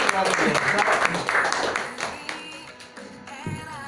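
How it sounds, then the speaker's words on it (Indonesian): Audience applause at a teacher-training workshop session, loud and dense at first, then fading over the following seconds as voices talk over it. "terima kasih tepuk tangan"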